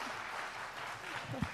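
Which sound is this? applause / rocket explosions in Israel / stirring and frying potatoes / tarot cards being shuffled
applause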